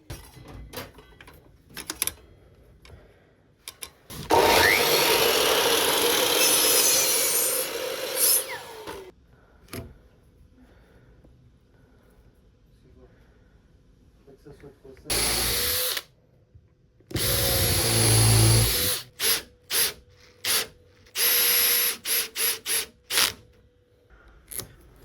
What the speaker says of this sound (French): On prend les cotes, on coupe, on préperce, on visse et on fixe.